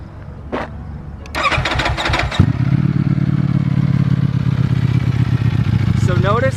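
A 2018 Ducati Panigale V4S cranks with a clattering starter and catches, settling into a steady, loud, low idle with an uneven beat close by, and a voice comes in near the end.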